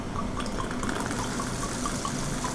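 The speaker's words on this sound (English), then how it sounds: "you're going to pour the rum into" Rum pours into a container in a continuous close trickling, gurgling stream, with an even level and no other sounds.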